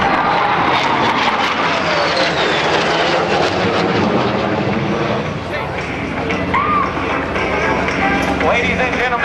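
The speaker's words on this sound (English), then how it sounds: "your United States Navy strike fighters." US Navy strike fighter jets at the 2010 NAS Oceana airshow make a steady, loud roar of jet engine noise that fills the whole stretch, with an announcer talking over it.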